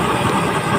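A medium-size heavy-duty used-oil stove burner firing a blue flame gives a steady, dense roar, loud and close, holding constant without pause.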